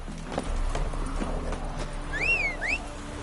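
The horse Roach from The Witcher 3 gallops with steady, fast hoofbeats, then gives two short whinnies near the end. The sound is close and clear, with no talking.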